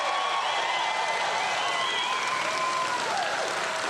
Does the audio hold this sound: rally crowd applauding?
yes